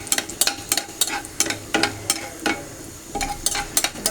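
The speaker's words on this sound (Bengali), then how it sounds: "এটা আমি ভালো করে ভেজে নেব" Bay leaves, cardamom and cinnamon frying in oil, heard as rapid irregular crackles and spatters with stirring clicks, close and fairly loud, with no talking.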